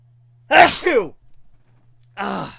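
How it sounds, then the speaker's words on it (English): A man sneezes sharply once into a microphone during a live stream, the burst trailing into a brief breathy tail, then a second short exhale follows after a pause, over a faint steady hum. "Gesundheit, me."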